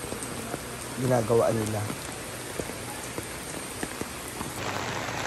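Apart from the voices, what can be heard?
rain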